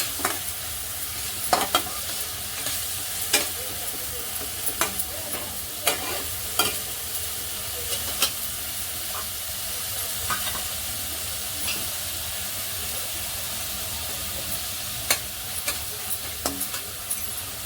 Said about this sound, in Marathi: आता कांदा पण मस्त आपण तेलावर परतून घेऊ